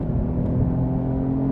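A non-turbo car engine pulls hard in second gear toward redline, a loud close droning rev with a steady rising tone and no speech.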